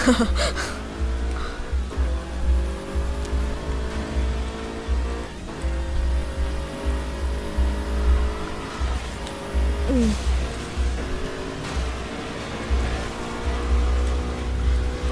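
Engine drone of a car racing in the video game Burnout Paradise, a continuous revving tone that rises and shifts with gear changes and boosts, steady and mid-level throughout.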